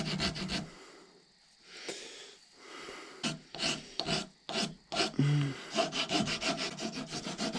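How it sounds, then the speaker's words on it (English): A file rasps against a horn being shaped into a simple powder horn, with quick bursts of close, gritty strokes broken by pauses and a snort-like breath in between. "start filing it down"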